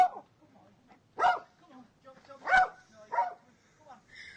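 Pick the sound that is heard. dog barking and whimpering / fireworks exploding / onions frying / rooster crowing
dog barking and whimpering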